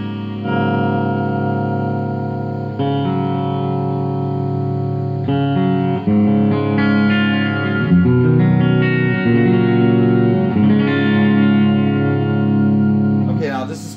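A Firefly electric guitar plays a clean tone with compression, delay and a little reverb: sustained, ringing notes and chords that shift every few seconds and trail off at the end.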